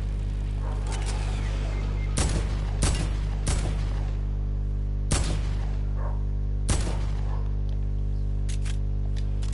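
AK rifle shots in Fortnite come as a handful of separate sharp cracks spaced a second or more apart, over a steady low electrical hum, with no talking.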